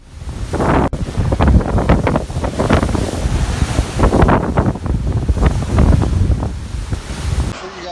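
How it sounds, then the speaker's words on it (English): Typhoon Mangkhut's violent wind roars over heavy ocean waves crashing against buildings in Hong Kong, a loud, continuous storm rumble with repeated surging surf bursts throughout. "Typhoon Mangkhut roared through Hong Kong, sending ocean waves towering like walls of water, crashing into homes"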